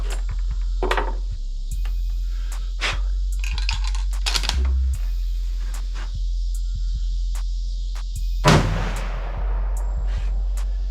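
A .338-06 rifle fires over a chronograph outdoors, and one loud sharp report rings out near the end against a steady low hum, with a few scattered clicks and taps before it.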